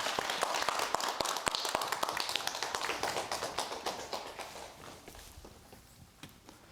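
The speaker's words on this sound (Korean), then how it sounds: "강의 지금부터 박수로 시작하도록 하겠습니다." A studio audience at the start of a televised skin-care lecture claps in a rapid, crisp patter that gradually thins and fades toward the end.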